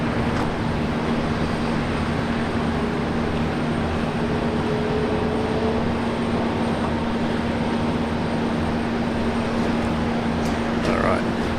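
An airliner takes off from runway 19 left at Brisbane Airport, a steady broadband engine roar with a low hum, continuous and fairly loud for the whole stretch, heard from the ground at a distance.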